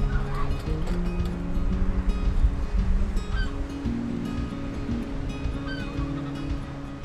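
Stormy sea waves breaking on the shore on a coastal walk between Saltdean and Brighton, a continuous rushing surf with several distinct dog barks and yips scattered over it.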